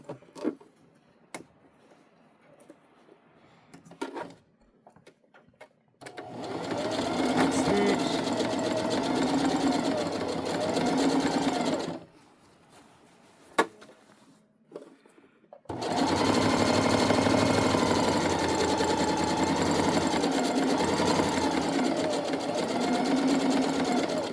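A home sewing machine stitches a seam on an unlined fabric tote bag in two long steady runs, with handling noises and brief quiet gaps between them, ending in back stitching.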